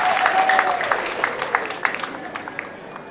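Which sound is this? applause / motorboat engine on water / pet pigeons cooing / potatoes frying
applause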